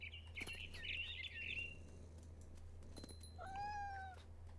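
A cat meows in the video game What Remains of Edith Finch, a bright wavering call over a steady low hum, followed by a few short bird chirps.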